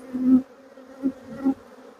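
Honeybees buzzing around an open hive during a beekeeping inspection, a steady low drone with three louder close passes swelling and fading as individual bees fly near, no talking.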